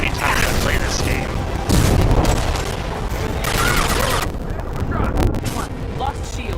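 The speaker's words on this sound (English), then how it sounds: "I always get nailed down here by those turrets every time without fail." Turrets fire in the video game Mass Effect 2, dense loud bursts of gunfire and booms mixed with game noise, continuous throughout, with a voice talking over it.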